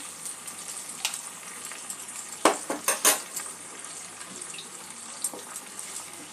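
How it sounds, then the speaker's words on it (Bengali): Spices and tomato puree fry in a pan for a Bengali-style fish curry, with a low sizzle under a cluster of utensil scrapes and clinks in the middle. "একটু ভালো করে ভেজে নেব মশলাটা"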